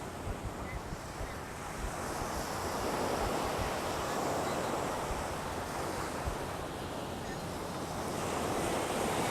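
Ocean waves wash onto a beach in a continuous rolling roar with surges rising and falling, mixed with wind buffeting the microphone, steady and fairly close with no voices.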